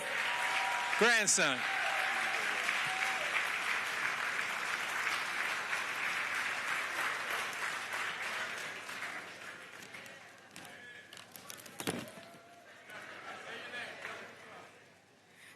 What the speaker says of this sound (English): I want you all to give a big round of applause to her grandson